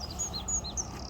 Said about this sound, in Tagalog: Yun yung gusto ko, mga huni ng ibon.